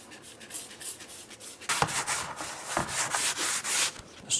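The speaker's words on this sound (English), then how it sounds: "Let's try some 400 grit sandpaper." Dry 400 grit sandpaper rubs in quick back-and-forth strokes on a part from an E46 330ci brake restoration, starting soft and getting louder, close up with no talking.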